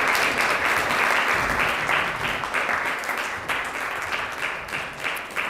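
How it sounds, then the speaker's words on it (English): An audience at an award ceremony in Miami applauds steadily as a museum director is welcomed to speak. The clapping is a dense, even wash that eases slightly toward the end. "Let us welcome Ms. Crujeiras with a round of applause."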